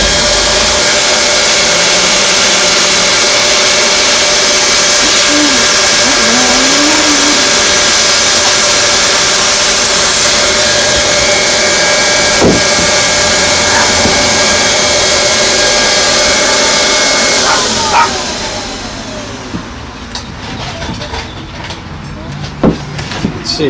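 A hot air heat welding tool sealing the roof seams of an RV, giving a loud, steady blower roar close up that runs unbroken for most of the time before cutting off, leaving quieter handling sounds.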